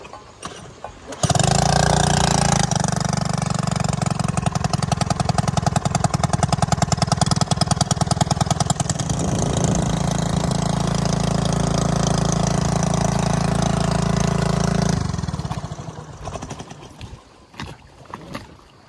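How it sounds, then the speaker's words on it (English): A small outboard motor on a dinghy starts and runs loud and close, a steady throbbing drone for over ten seconds, then winds down and cuts out near the end. "Our little dinghy is afloat, the motor is working"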